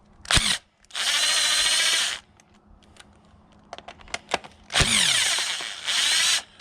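A power tool fitted with a 10mm socket spins out coil bolts on a 2004 Toyota Sienna 3.3L engine in loud whirring bursts of about a second each, separated by clicks and clanks of handling.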